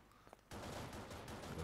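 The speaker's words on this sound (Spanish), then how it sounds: "Los disparos." Gunfire in the video game Bayonetta 2 erupts after a short quiet lead-in, a dense, sustained burst of rapid shots filling the rest of the moment at steady loudness.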